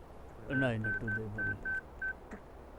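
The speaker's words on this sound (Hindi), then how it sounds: "शिवा को फोन करता हूँ।" A series of keypad tones beeps out in short bursts, about six or seven presses at an uneven rhythm, with someone talking quietly under the first few.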